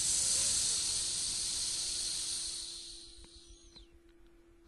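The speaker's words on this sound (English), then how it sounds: "Then there was a strange hissing sound like this." A strange, steady hiss fills the scene in a dark lost-episode horror story, bright and loud at first, then slowly thinning and fading out over several seconds, with a faint low hum underneath.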